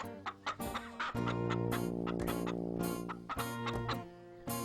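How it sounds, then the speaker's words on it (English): Chickens cluck in a farmyard, a dense run of close, overlapping clucks and squawks, with a few sharp calls at the start and end and a sustained cackling stretch in the middle. "The chickens in the yard had familiar feathers, reminiscent clucks."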